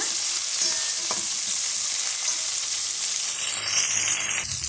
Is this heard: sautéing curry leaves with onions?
yes